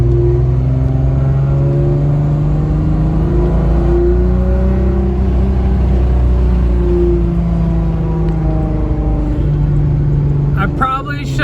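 A car with a throaty engine cruises along the road, its droning hum rising and falling in pitch as it accelerates and eases off, heard from inside, close and loud, with a brief rattle near the end.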